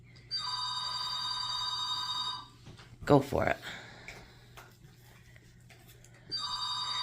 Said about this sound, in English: I never answer that phone, by the way, guys, because it's always scam.